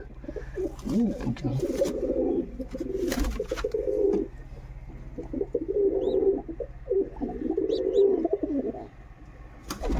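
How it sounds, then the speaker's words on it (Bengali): Jacobin pigeons cooing close by, several bursts of low rolling coos in sequence over a faint steady hum, with some brief clatter. "জ্যাকোবিন কবুতর বসে আছে"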